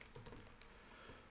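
Quiet, rapid tapping of keys on a computer keyboard, a short burst of several faint keystrokes close by.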